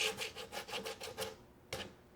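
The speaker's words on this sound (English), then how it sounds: "I think a little sanding is going to take this right to where it needs to be." Rhythmic back-and-forth rasping of sandpaper on wood, about eight quick strokes, then a pause and one more stroke, close and fairly quiet.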